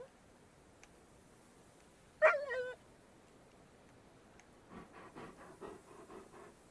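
A wolf in the game Path of Titans gives a short sharp yip, then a run of quick, soft breathy sniffs, fairly close over a low ambient hush.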